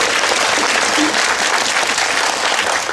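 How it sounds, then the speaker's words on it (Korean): Loud, close applause from a cinema audience at a film screening talk, dense continuous clapping filling the whole stretch without a break. "박수 한번 주시겠어요?"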